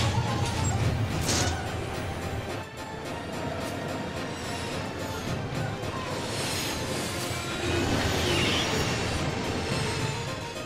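Train running in the game Final Fantasy VIII: a continuous rumbling roll of a moving train with rattling and faint squeals, steady and moderately loud across the whole stretch, with no voices.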